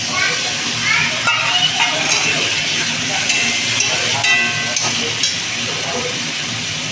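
Chili paste loosened with water hits hot oil in a pan while cooking a Bengali country-chicken curry, giving a steady broadband sizzle and hiss with stirring clatter throughout, close and loud.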